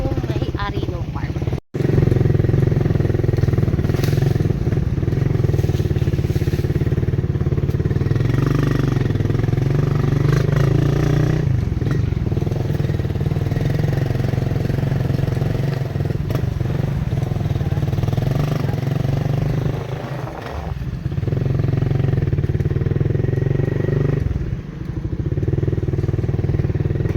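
A motorcycle rides ahead on a road, its engine droning steadily and fairly loud throughout, with slight rises and dips and voices at times.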